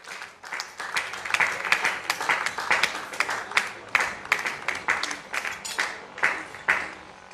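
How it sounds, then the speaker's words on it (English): Audience applause at an award ceremony and dinner night of a Nigerian private medical association, a sustained crowd of many hands clapping with uneven swells, moderately close, with little talk. "A round of applause for him as he steps forward."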